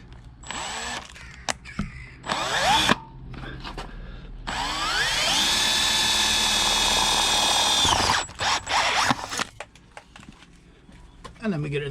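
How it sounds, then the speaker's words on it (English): A pilot drill bores a hole through the back of a headlight shell on a Suzuki GS850 chopper, a long steady whine with rising pitch as it bites, between short bursts and clicks close by. "I want to put a 20mm hole in the back of the headlight shell"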